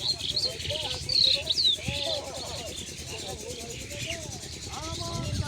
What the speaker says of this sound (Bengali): পাখিগুলো